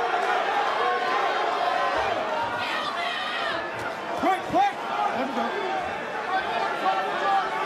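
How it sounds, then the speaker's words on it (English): Crowd buzzing at a boxing match between Teofimo Lopez and George Kambosos, a dense arena murmur of chatter and excitement with a commentator talking over it. "The crowd buzzing, they sense something."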